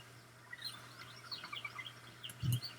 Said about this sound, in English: Chirp, chirp, chirp.